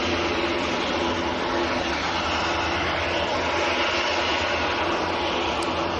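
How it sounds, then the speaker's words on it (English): Ryanair jet airliner departing Manchester Airport, a steady loud broadband engine roar that holds throughout with no voices. "Ryanair to Brussels is next to go."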